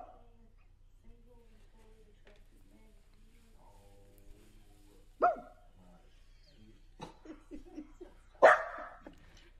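A dog barks a few times in short, sharp bursts, fairly close, with quiet vocal sounds and a person talking intermittently in between.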